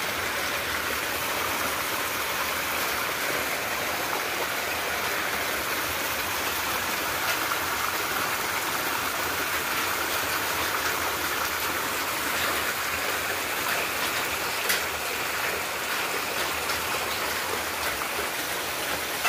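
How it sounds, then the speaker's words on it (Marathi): Steady broadband rush of a stream flowing past village houses, continuous and fairly close, with no voices and only slight variation over the whole stretch. "प्रत्येकाच्या घराच्या शेजारून ते पाणी वाहत जाते"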